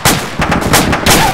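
Several loud, close bursts of video game gunfire crack out in quick succession during a squad firefight, with short gaps between shots.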